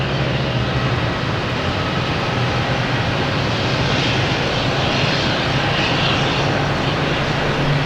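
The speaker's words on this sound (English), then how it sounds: "Aer Lingus is here, Carl." Aer Lingus airliner at Boston Logan Airport, its jet engine roar loud and steady throughout, a broad continuous rumble with no talk over it.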